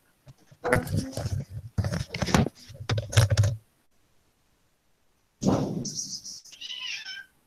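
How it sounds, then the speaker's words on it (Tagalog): A cat meows repeatedly and insistently indoors, several loud calls in quick succession, then a pause before a few more higher, drawn-out meows. "At papasukin ko muna yung pusa, ang ingay niya."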